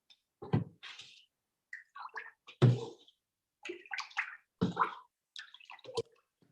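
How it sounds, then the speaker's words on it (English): Ceramic glaze is poured into a pot and swirled around the interior, heard as a series of short sloshing, splashing bursts separated by quiet gaps, close and clear. "So I'm just gonna pour this right in."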